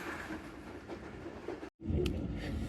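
Tezgam Express passenger train slowing as it approaches a station in Pakistan, giving a steady rolling rumble with faint rail clatter and a brief dropout partway through.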